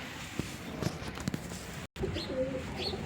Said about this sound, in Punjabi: ਲਓ ਜੀ ਆ ਕਬੂਤਰ ਹੈਗਾ ਜੀ